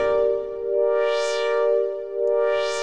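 Glassy synth pad from the Vital synthesizer, its LFO-driven pitch leaping up an octave at the peak of each modulation cycle; a sustained harmonic tone swelling and sweeping brighter twice over a few seconds, alone.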